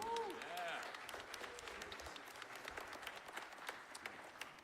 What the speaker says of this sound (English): how about one more round of applause for the Flat 5 Jazz Combo?